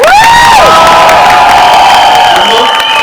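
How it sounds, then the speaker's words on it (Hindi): A loud crowd at a film trailer launch cheers and whoops with high shouts over dense applause, a continuous roar of excitement close by. "इनके लिए जोरदार तालियां हो जाए यार।"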